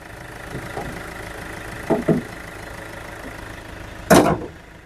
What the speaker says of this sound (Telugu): Diesel engine sir.